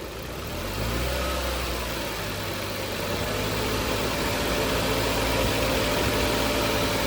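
A second-hand 2019 Maruti Baleno Alpha petrol engine rises from idle into a steady raised rev when the accelerator is pressed, a close, continuous mechanical drone with no talking.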